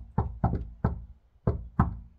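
Five firm knocks on a front door, struck in an uneven rhythm of two quick pairs and a single rap, close and loud with no talking.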